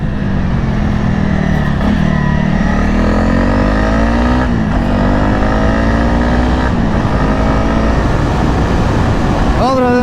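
A Honda CRF 300 motorcycle rides along twisty, straight and light dirt roads, its engine droning steadily and loud throughout, pitch rising and falling with throttle and gear changes under constant wind rush.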